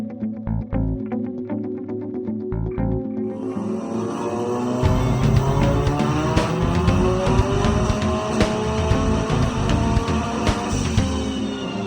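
A turbocharged Mazda revs up and pulls hard under spirited driving, engine note climbing steadily through the gears, loud and close from inside the car, with a rising whine and buzzing harmonics layered over road rumble.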